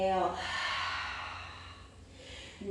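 A person breathing through the nose during a yoga power flow, with a close, soft, drawn-out airy exhale that gradually fades and a faint new breath at the end.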